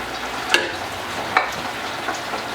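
Pre-cooked boxed pasta gets tipped into a pan of creamy sauce, with a low, soft sizzle and a few wet clacks and scrapes of a utensil as it settles in.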